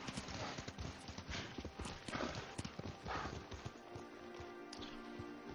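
Horse hooves in Ghost of Tsushima clip-clop in a quick, steady rhythm, close and clear, with faint gear-like rustle and no talking over them.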